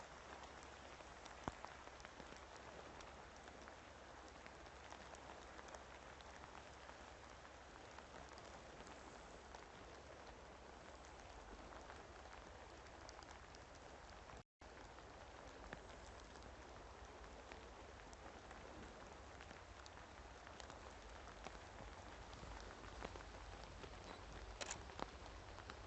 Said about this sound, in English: Okay, rain really coming down.